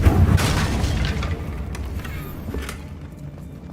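A Confringo spell goes off in Hogwarts Legacy with a muffled boom that tails into rumbling debris, followed by a couple of faint, softer thuds.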